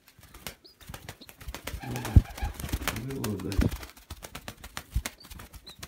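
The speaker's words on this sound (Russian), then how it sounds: "Чтобы голуби начали махать крылом." Pigeons flap their wings in short fluttering bursts close by, between quiet cooing, while someone speaks briefly over the sound.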